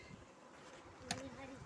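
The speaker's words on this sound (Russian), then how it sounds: "Смотри, очень много пчел." A dense swarm of honeybees drones steadily as a beehive is opened for inspection, a close, continuous buzz with one brief sharp click partway through.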